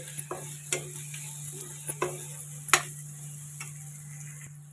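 Paste frying in a pan for a spinach dish, stirred now and then: sparse sharp clicks of a spoon against the pan over a faint, steady sizzle, with no talk.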